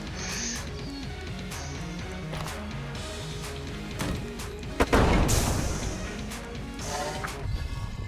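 A Molotov bursts into fire in Enter the Gungeon amid game music and rapid gunfire, with a loud crashing whoosh midway followed by crackling flames and more shots.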